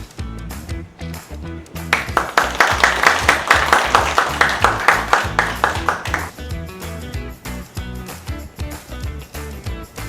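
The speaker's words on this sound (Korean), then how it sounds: "뜨거운 박수 부탁드리겠습니다" Audience applause at a founding ceremony and launch event for a national walking festival, loud rhythmic clapping that swells for several seconds, peaks, then thins out.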